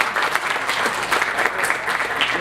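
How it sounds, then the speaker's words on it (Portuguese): A small audience in a seminar room claps for a participant, giving dense, even applause throughout the short stretch. "Ok, palmas para ela."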